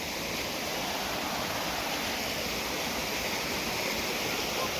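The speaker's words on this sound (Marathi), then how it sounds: "काय वाजते रे बाळा काय वाजते रे पाणी किती मोठं पाणी रे" Heavy rain sending water rushing past, a loud, dense, unbroken roar close by that holds steady throughout with no other sounds standing out.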